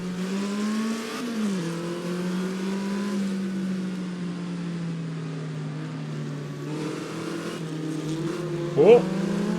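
An Alpine A210 race car accelerates on a circuit, its engine a steady, loud droning note that climbs gradually in pitch, with a voice talking over it and a brief sharp chirp near the end.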